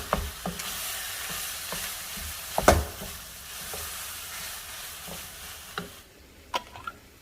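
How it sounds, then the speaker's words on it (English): Ground beef seasoned with salt and cracked black pepper cooks in a pan, a soft steady sizzle broken by occasional clicks and scrapes of a utensil stirring, with one sharper knock midway. "And now I'm just going to cook and saute this."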